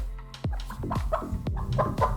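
Chickens cluck in a quick, uneven series of short, close calls, with one loud burst near the start and softer repeated clucks after it.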